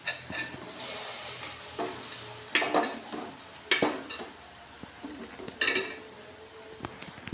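Fried cashews and raisins in hot ghee tipped from a small pan into sago payasam, with a brief sizzle and metal clinks and scrapes of spoon and vessel coming in a few bursts, close and fairly quiet.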